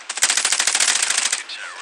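Rapid automatic rifle fire from AK, FAMAS and M4 weapons during a competitive Counter-Strike tournament match, a loud dense burst of repeated shots lasting over a second, then a brief quieter whoosh.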